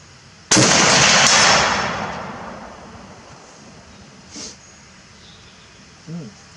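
A single loud Steyr SSG 69 sniper rifle shot cracks out at close range, its sharp report rolling away in a long decaying echo across open ground, followed later by a couple of faint distant sounds.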